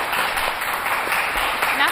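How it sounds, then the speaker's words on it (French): An audience claps at a cultural evening celebrating China, a dense, even patter of many hands lasting the full two seconds with no pauses. "Applaudissements"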